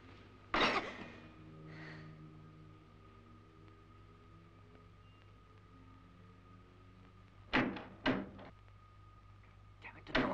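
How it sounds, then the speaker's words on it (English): Someone tries to open a locked door, with a sharp knock-like rattle early on, then a few quick clattering jolts near the end over a steady low hum, no talking. "Damn it, the door's locked."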